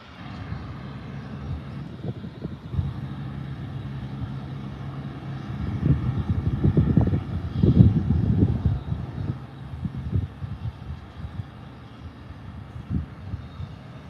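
A jet airliner waits holding short at Adelaide Airport before departure, its engines giving a steady low droning rumble that swells with some rougher bursts midway, heard from a distance.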